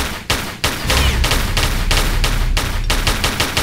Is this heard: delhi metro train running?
no